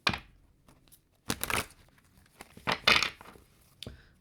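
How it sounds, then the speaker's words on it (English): Tarot cards are shuffled in several bursts of riffling and slapping card noise separated by short pauses, close and fairly loud, with no talking. "I need 3 shuffles"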